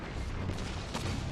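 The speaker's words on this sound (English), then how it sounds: "I wasted my nade very badly there." A grenade goes off in Destiny 2 during a Trials match, one loud, close booming blast that is short and heavy and has no voices over it.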